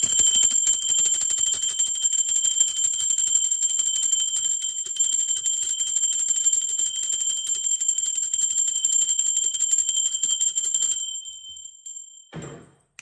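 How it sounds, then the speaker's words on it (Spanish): A bell rung during a tarot reading, a steady bright ringing held at high pitch for about eleven seconds before it is damped and cut off with a soft thunk. "Va campana"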